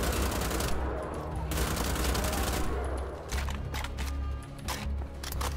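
A turret in a video game fires rapid bursts of gunfire that stay loud and dense throughout, coming in long volleys with short breaks, and a voice can be heard faintly under the shooting.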